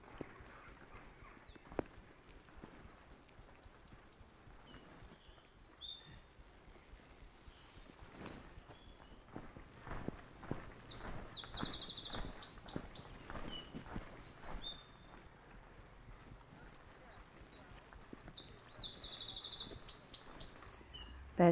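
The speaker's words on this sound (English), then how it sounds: "Loving listening to the birds down here as well." Birds chirp and sing repeatedly at a moderate distance in an echoey sunken lane, Nynehead Hollow near Wellington, with bright bursts of calls scattered throughout over a soft outdoor background.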